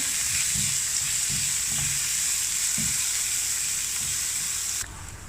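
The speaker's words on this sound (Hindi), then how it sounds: "ये डालेंगे और साथ ही डाल देंगे सब्ज़ मिर्चें। इनको फ्राई करेंगे।" Chopped onions and green chillies fry in hot oil with a loud, steady sizzle, punctuated by low stirring scrapes, before the hiss drops abruptly near the end.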